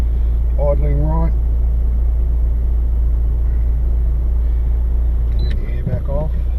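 A 2000 Mitsubishi Lancer Evolution 6.5 Tommi Makinen Edition idles steadily with a low, even engine hum, close by, while a person speaks briefly over it near the start and again at the end.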